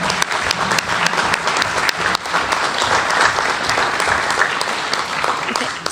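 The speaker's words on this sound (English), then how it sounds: "if we can give all these students a round of applause" A round of applause for students at a city council meeting: sustained clapping from a roomful of people, dense and steady, with a few voices mixed in.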